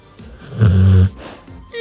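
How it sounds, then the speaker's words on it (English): One deep, rumbling snore, loud and close, swelling and then fading into soft breathing, as from a sleeping dog. "You want to hear my dog snore?"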